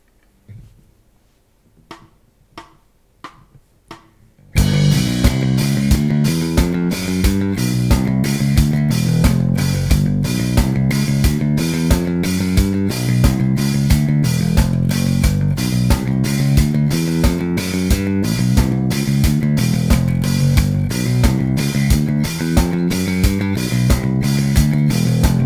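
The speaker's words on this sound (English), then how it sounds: "Riff number three concentrates on double notes and sounds like this." A bass guitar played with a pick runs a steady, loud riff of double notes in G, starting after a few soft muted clicks and continuing at an even, driving pulse with no talking.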